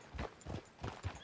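Horse hooves clip-clopping at a walk in the Red Dead Redemption 2 western game, about four steady, fairly close thuds across roughly a second, heard alone.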